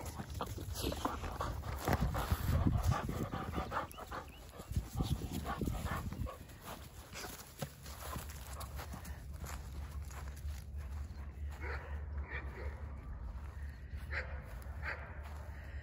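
Dogs barking at a distance, intermittent over outdoor background noise, with faint footsteps or movement nearby.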